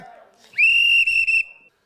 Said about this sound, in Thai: แค่เป่านกหวีด คุณยังเป่าแบบนี้